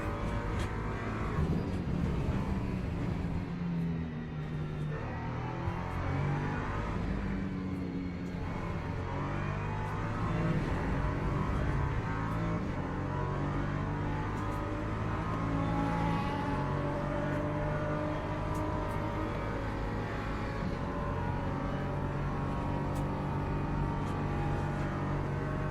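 LMP2 prototype race cars in a racing video game, heard as a continuous, steady roar of multiple engines droning and passing throughout, with no speech.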